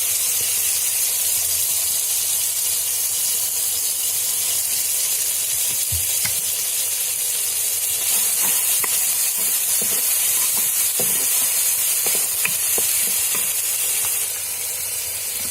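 Ginger garlic paste sizzles steadily in an earthen pot, a continuous loud hiss with occasional faint stirring clicks, close by and without speech.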